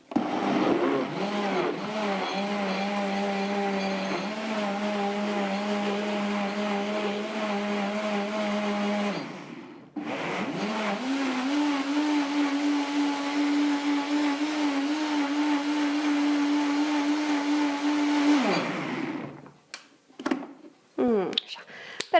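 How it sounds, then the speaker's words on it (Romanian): A blender whirs through a detox smoothie of frozen ingredients, a loud steady motor drone that stops briefly midway, restarts for a second long run, then cuts out and leaves a few clatters. "Este un blender care ne ajută, nu ne face viața grea"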